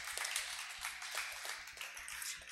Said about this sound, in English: can we give your parents a round of applause?